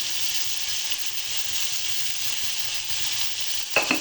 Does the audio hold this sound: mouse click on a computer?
no